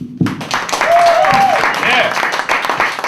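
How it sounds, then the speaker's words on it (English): Audience applause and cheering at a stand-up comedy show, a loud burst of clapping rising quickly and holding steady, with whoops and a voice over it. "So give him a round of applause."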